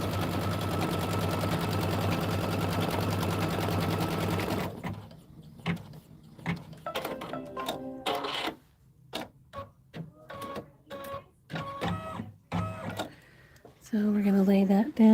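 An embroidery sewing machine stitches a line on a quilt block, first as a continuous rapid mechanical whir, then as short stop-start bursts of stitching with pauses between them.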